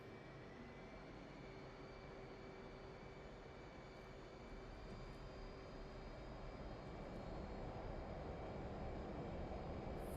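Jet engine roar with afterburner lit in the DCS combat flight simulator, a steady broadband rush with a faint whine that swells slightly louder toward the end, heard without any talking.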